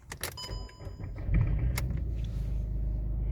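A 2010 Volkswagen Polo MK5 starts up from inside the car, with a brief whir and clicks followed by the engine catching and settling into a steady low idle rumble.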